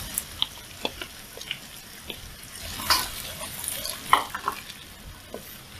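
Chopped onion hits melted salted butter in a pan, giving a faint, steady sizzle with light scattered crackles and a couple of stirring clinks, heard close with no talking.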